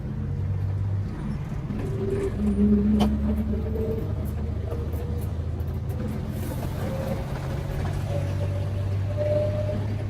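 Steady low engine rumble and road noise inside a crowded city bus in Mexico, continuous and moderately loud with faint shifting whines, no talk.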